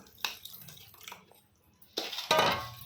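Thick tomato pickle is mixed in a metal vessel, giving close scraping and clinking of a spoon against the pot. Short strokes come first, then a louder, sustained scrape and rattle near the end, with no talk.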